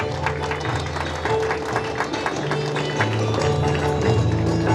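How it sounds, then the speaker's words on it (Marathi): An audience at an award ceremony applauds in a steady, dense patter of clapping, blended with sustained musical tones playing alongside. "एकदा जोरदार टाळ्या."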